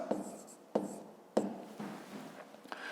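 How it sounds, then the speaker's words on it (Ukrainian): A pen writes an answer by hand on paper in short quick strokes, with several sharp taps and scratches spaced across a few seconds on a quiet background. "І записуємо цей час"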